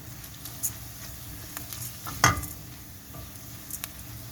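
Vermicelli toasting in a pan for a pea rice pilaf gives a soft, faint sizzle, broken by a few light stirring scrapes and clicks.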